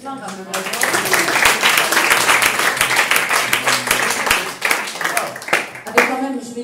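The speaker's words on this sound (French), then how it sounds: "Voilà, un applaudissement quand même." An audience at a music talent competition applauds for several seconds, a dense burst of clapping with voices at the start and end.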